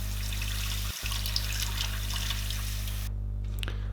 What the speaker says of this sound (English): we're going to give it a good rinse under the tap